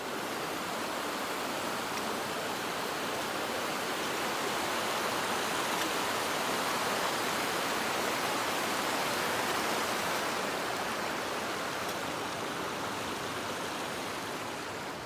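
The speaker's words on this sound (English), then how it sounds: "Water's running fairly fast." Fast-running mountain stream on the slopes of Ben Nevis, a steady broadband rush of water close by, continuous and loud for the whole stretch with no voices.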